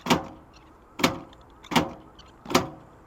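Power door locks on a C10 Squarebody truck, worked from the passenger door switch, give four sharp mechanical clunks at an even, steady pace with nothing else heard.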